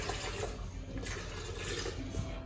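Water splashes and pours into a blender holding chopped apple in a short, close stream, a brief wet rush with a slight bubbling edge.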